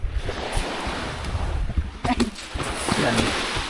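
Waves wash steadily onto a sandbar shoreline near Cagmanaba, Oas, Albay, as a broad continuous roar with wind buffeting the microphone and a few faint bumps.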